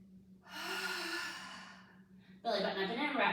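Heavy breathing during a Pilates mat exercise: a long, close, audible exhale followed by a sharper, louder breath, over a steady low hum.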